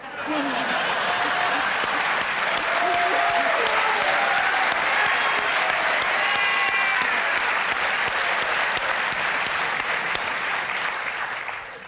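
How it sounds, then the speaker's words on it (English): Loud, sustained studio audience applause at a 2007 late-night talk show taping, a dense wash of clapping that swells and holds steady for the full stretch, with cheers and whoops woven through it. "That got a lot of applause."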